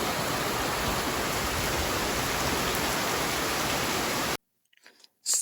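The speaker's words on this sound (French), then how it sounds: "Première fois qu'il pleut comme ça de tout notre voyage." Heavy rain pours down during a trip in Costa Rica, a dense, steady hiss and roar filling the scene before cutting out abruptly into near silence.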